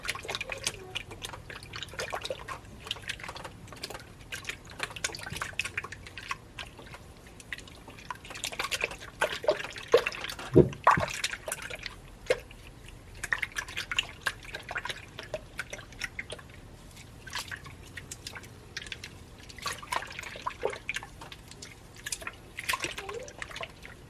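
Sourdough starter stirred with a quarter cup of refrigerated bottled water in a bowl, a steady wet sloshing and dripping with small clinks, close and continuous, with no voices.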